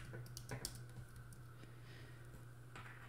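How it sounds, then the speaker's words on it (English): Fingers tap a computer keyboard in a quick, irregular run of soft clicks, faint and close against a low steady background hum. "just start typing in whatever it is you're looking for."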